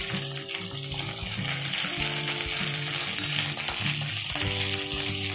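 A whole fish fries in hot oil, filling the scene with a steady, dense sizzle and bubbling that stays loud and unbroken from start to finish, with no voices.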